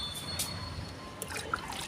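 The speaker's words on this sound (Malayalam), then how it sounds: "ഞാനേ കുറച്ച് ചെടിക്ക് വെള്ളം ഒഴിക്കട്ടെ" Water poured onto a few potted plants outdoors in sunshine, a soft, faint trickle and dribble running through the short moment, with small splashy ticks near the end.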